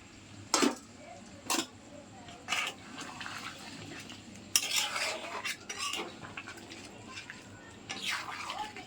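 Hot water poured over potatoes in a cooking pot, then stirred, with sharp spoon knocks and clinks against the metal, a splashy pour in the middle, and quieter stirring scrapes close by.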